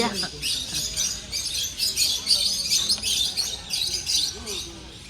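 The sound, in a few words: parrot chirping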